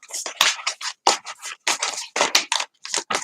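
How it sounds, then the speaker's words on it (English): A deck of tarot cards being shuffled by hand, a quick series of crisp, papery riffling bursts and flicks close to the microphone, with no talking. "I better shuffle that again, seeing as we've picked up that first top card"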